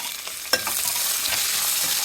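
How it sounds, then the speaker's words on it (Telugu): Tempering spices, curry leaves and round-sliced ivy gourd sizzle steadily in hot oil, with a sharp clack of a spoon stirring the pan near the start and soft scraping after. "పోపు దినుసులు వేయించుకుని అందులోనే కరివేపాకు తగినంత వేసుకుని మనం దొండకాయలు రౌండ్గా కట్ చేసుకుని వేసుకోవాలి"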